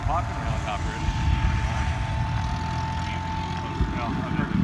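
A Robinson R66 turbine helicopter that has just landed, its steady engine whine and rotor rumble filling the background with a constant tone while people talk nearby.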